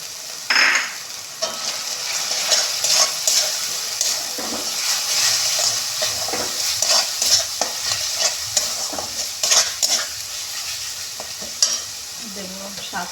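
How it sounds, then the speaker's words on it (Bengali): Dried fish frying with ground spices and chili paste in a hot pan, a spoon stirring and scraping in steady bursts over a constant close sizzle. "এটা দিয়ে একটু ভালো করে ভেজে নিই"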